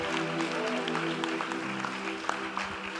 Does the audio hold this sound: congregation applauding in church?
yes